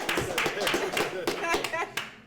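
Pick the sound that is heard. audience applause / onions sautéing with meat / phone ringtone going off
audience applause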